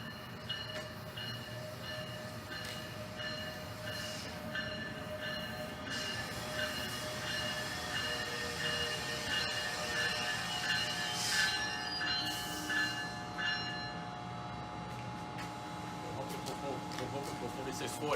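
Train noise at a station platform in Iselin, a steady rumble with high metallic squealing tones from the wheels and rails, continuous and fairly close.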